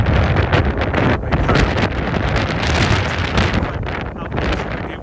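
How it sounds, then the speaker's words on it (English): Strong gusting wind in London's Barbican area buffets the microphone with a loud, constant roar and rumbling bursts, no other sounds standing out. "Oh my god, it's windy."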